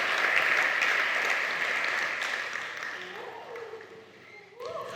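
Loud applause from a church congregation fills the air, then gradually dies down over a few seconds, with voices mixed in.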